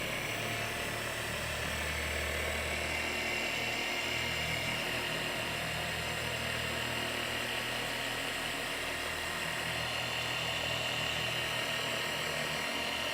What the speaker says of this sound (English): keep the polisher moving, don't let it hover